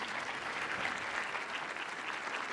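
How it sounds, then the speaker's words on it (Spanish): A seated audience gives steady, soft applause to welcome a panel at a cybersecurity incident-management event. It is a dense, continuous patter of many hands clapping at moderate distance, heard alone. "Un aplauso para ellos,"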